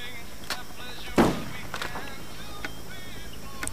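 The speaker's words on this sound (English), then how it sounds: "Basically, this is a shotgun." A shotgun loaded with buckshot fires once in the Men of Valor training level, a single sharp loud blast over a quiet room tone, with a few fainter clicks scattered around it.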